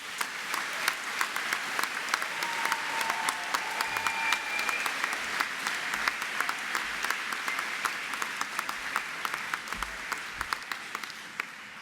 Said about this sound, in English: please, to give a massive round of applause to this graduating class